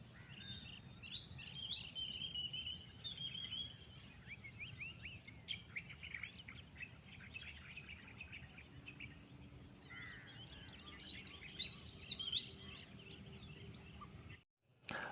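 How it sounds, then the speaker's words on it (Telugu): Birds singing beside a road in Kerala, bright chirps and trills in bursts over a low rumbling background, moderately faint, ending with a sudden cut. "మాకు ఈ పక్షుల గొంతులు చూడండి భయ్య, ఎంత ఆహ్లాదకరంగా చిన్ననాటి జ్ఞాపకాలని గుర్తు చేస్తున్నాయో"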